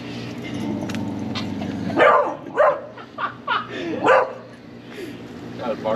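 A dog barks several times in short bursts over a low steady hum, fairly close.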